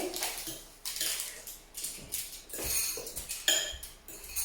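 A utensil stirs okra omelette mixture in a bowl, with close, irregular clinks and scraping taps against the dish, no talking.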